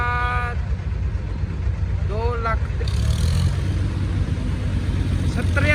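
A 2013-model tractor engine idles with a low, steady rumble, with people talking nearby and a brief animal-like bleat over it.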